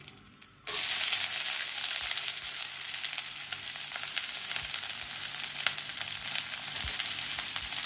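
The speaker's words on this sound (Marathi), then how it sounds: "तेलात 4 मिरच्या टाकायच्या" Four green chillies drop into hot oil with mustard seeds, setting off a sudden loud, close sizzle that continues steadily with a few faint pops, no speech.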